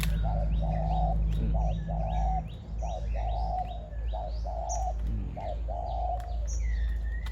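A decoy dove coos in short repeated phrases, clear and close, about a dozen notes with brief gaps, while other small birds chirp faintly in the background.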